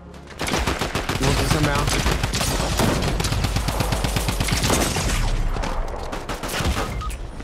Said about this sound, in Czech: Tady někdo střílí, kámo.